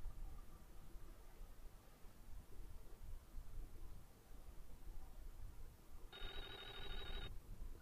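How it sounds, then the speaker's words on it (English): A telephone in the 1995 horror game Clock Tower rings in a short electronic trill near the end, clear but brief, after several seconds of low hiss and quiet background noise. "Phone's ringing."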